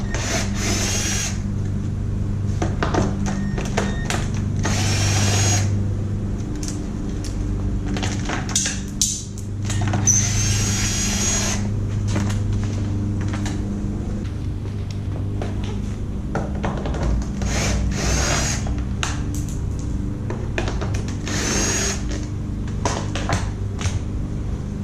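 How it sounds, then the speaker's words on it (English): A power drill with an 8mm socket removes screws from a Suzuki RM125 motorcycle, whirring in repeated short bursts with brief pauses, close and loud, with clicks and rattles of metal between runs. "Had an 8mm attachment that I just put onto my drill to make things a little smoother"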